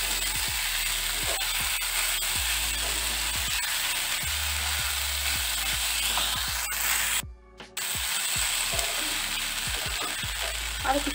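Soaked sago for pulao being stirred in a hot pan, a steady sizzle with repeated scraping strokes of a spatula in an uneven rhythm, close and continuous, with a brief quiet gap midway; no talking.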